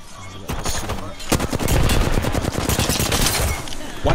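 Heavy video game gunfire fills the clip with dense, rapid automatic bursts and overlapping shots, loud and close, with a brief pause before the firing intensifies.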